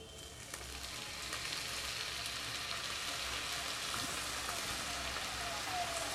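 Vegetable fried rice sizzles loudly in a hot pan over a high flame as vinegar is added, a steady, dense hiss with scattered crackles running unbroken from start to finish.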